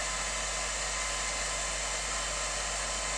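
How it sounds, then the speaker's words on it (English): A hair dryer runs continuously to dry a damp watercolour glaze of a moon and rocks painting, a loud, close, steady airy roar with a low motor hum beneath it, unbroken throughout with no talking. "I'm going to get the hairdryer on this just so I don't get cauliflowers."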